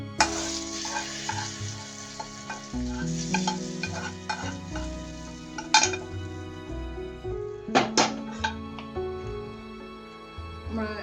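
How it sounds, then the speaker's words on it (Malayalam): Fried mustard seed tempering poured into rajma curry, a close crackling sizzle with stirring and scattered clinks of a metal spoon against the pot, flaring in sharp bursts. "കടുക് വറുത്തൊഴിക്കാം."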